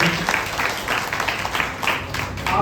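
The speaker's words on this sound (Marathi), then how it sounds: "त्यासाठी जोरदार टाळ्या झाल्या पाहिजे" A crowd at a memorial event for Jyotirao Phule breaks into hearty applause, many hands clapping in a dense, lively patter that swells and dips slightly, with faint voices mixed underneath.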